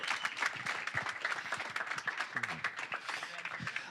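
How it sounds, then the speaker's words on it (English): Thin applause from a small audience at a live blockchain conference, scattered claps over faint crowd murmur and a few voices, quiet and uneven. "Give him a round of applause."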